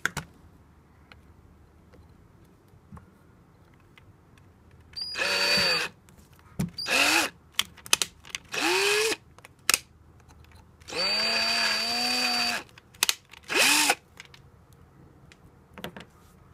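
A power drill whirs in several short bursts and one longer run, its pitch rising as the motor spins up, with quiet pauses between.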